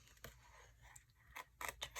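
Scissors snip through cardstock while fussy-cutting a shape, giving a series of quiet, crisp cuts at irregular intervals, close by and faint.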